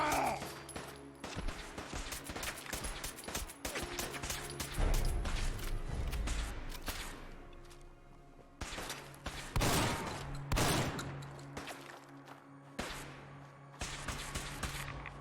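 Gunfire in the game Fallout 4 against bullet-soaking enemies: repeated sharp volleys and bursts crack through a dense, loud mix of game noise, with occasional heavy thumps, and a voice talks over parts of it.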